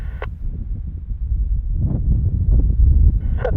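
Strong gusting wind buffets the microphone at Bristol airport during Storm Dudley, a loud low rumbling roar that swells and surges, with a few faint higher noises in the distance.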